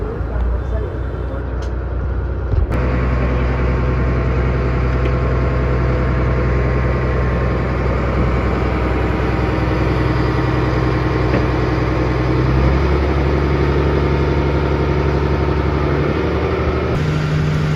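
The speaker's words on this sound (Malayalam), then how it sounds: "വള്ളം റിവേഴ്സ് വെച്ച് നമ്മുടെ കൊച്ചി ഹാർബറിൽ നിന്ന് നമ്മൾ പണിക്ക് പോകണേ" The engine of a fishing boat reversing out of Kochi harbour runs steadily throughout, a low continuous drone with a slight shift in tone near the end, while someone talks over it.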